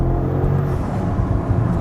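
A BMW M5 (G90) engine with a RamAir carbon intake hums and revs steadily up close, with a throaty low rumble and a faint whooshing intake note.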